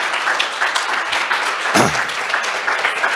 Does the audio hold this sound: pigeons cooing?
no